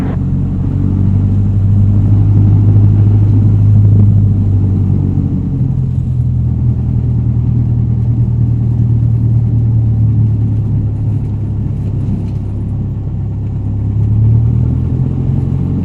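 Light aircraft engine at full throttle during a takeoff roll on runway 23, a loud, steady low droning rumble heard close from inside the cockpit, swelling slightly at the start and end, with no voices.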